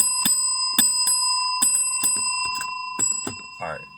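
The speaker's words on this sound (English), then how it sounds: "that was just my bell" A bicycle-style bell rings close and loud, struck in a quick irregular series of bright metallic dings, about ten strikes over a few seconds, each with a sustained ringing tone, with no talking.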